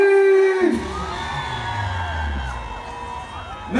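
Live concert crowd at an outdoor performance in the South, loud sustained screaming and cheering that swells right after a performer's shouted call and carries on alone.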